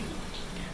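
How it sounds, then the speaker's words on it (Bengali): A brief, steady hiss of light rain drizzling, even and continuous, with no voices. "বৃষ্টি হয়েই যাচ্ছে"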